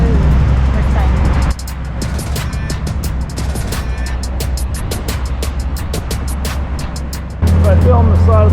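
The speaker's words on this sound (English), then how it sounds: "we're riding a tuk-tuk" A tuk-tuk ride through Bangkok streets, its small engine droning steadily under loud wind buffeting and passing traffic, with people talking over the noise at the start and end.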